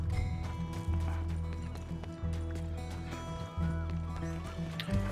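Horse galloping in the video game Red Dead Redemption 2, steady rhythmic hoofbeats running under a thick, busy game mix throughout, with a faint neigh and no clear speech.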